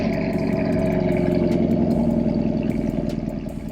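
A 2021 Chevrolet Camaro SS V8 fitted with Texas Speed headers and link pipes idles loudly just after a cold start, a deep, steady rumble with a high fast idle and no talking.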